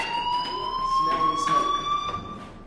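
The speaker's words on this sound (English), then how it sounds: "Hey, do you hear that fire alarm?" An electronic fire alarm rings in the video game Life is Strange: a steady, piercing multi-tone tone that holds unbroken for the whole stretch, with a faint murmur of voices beneath.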